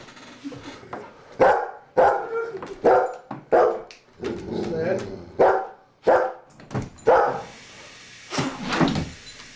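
A dog barks in repeated sharp bursts close by, about a dozen loud barks in quick irregular succession, with a person talking between them.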